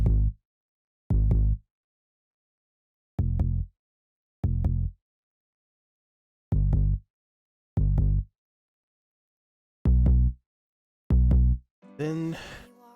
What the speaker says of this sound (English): So I have this synth bass here.